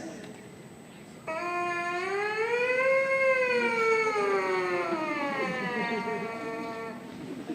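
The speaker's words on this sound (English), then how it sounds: "buzzing on the trumpet sounds like this" Lips buzzing into a trumpet mouthpiece in a siren exercise, a single continuous buzzy tone that sweeps up, then slowly glides back down and wavers, heard up close over faint room noise.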